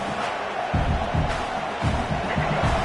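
A football stadium crowd at a Penn State vs Texas A&M game roars steadily for the defense during a red-zone stand, a dense, loud wash of cheering with rhythmic surges and no clear talk on top.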